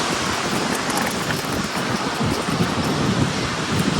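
Strong wind sweeps across a sunny beach, a steady, loud rushing roar that fills the whole stretch with no letup and no voices.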